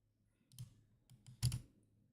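Computer mouse clicks, two short close clicks about a second apart with the second louder, alone in a quiet room.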